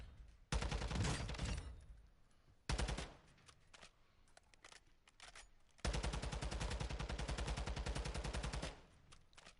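Automatic gunfire in Call of Duty DMZ, three long bursts of rapid, loud shots separated by quieter gaps with lingering echo, the last burst sustained for about three seconds, with no talking.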